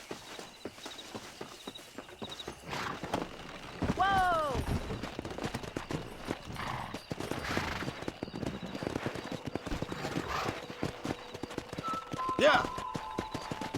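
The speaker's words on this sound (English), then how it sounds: "let's see if we can't wrangle some horses." Horse hooves clip-clop during horse wrangling in the video game Red Dead Redemption, mixed with bursts of gunfire, whinnies and a voice shouting and talking over the action.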